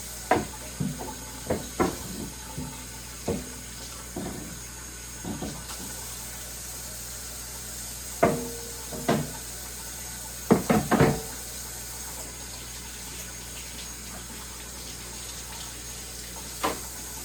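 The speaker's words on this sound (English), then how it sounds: "Let me give this shit a rinse. It's cutting board." A cutting board is rinsed under a running kitchen tap, a steady hiss of flowing water with scattered knocks and clunks as the board bumps the sink, close by and without talking.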